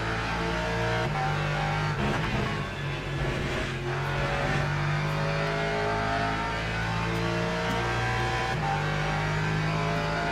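Race car engine in the Le Mans Ultimate sim racing game, a continuous loud droning note that rises and falls with gear changes and braking, with no talk over it.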